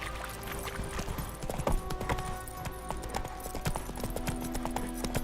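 Roach the horse from The Witcher 3 galloping, steady rapid hoofbeats drumming under in-game music, moderately loud and continuous.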